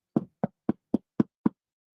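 Six evenly spaced knocks on a door, sharp and close, in a quick steady rhythm, heard alone with no talking.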